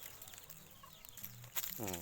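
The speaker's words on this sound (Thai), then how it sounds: "ฟาร์มไก่แจ้ของผู้ช่วย จนนะครับ เดี๋ยวไปดูลูกไก่นะครับ" Bantam chickens cluck and chatter close by on a farm in a short burst, with soft rustling and a brief sharp call near the end.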